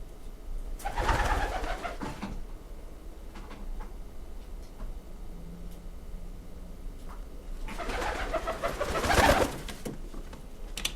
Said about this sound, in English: sometimes when they take off, you'll hear a sort of a whistling sound